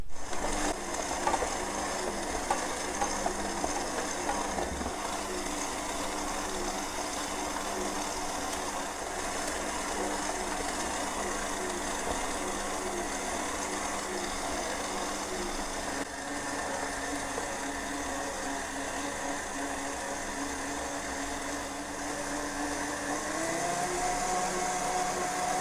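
A stand mixer kneading brioche dough at higher speed, a continuous motor whir with a steady rhythmic mechanical churn that runs unbroken, a slight pitch change near the end.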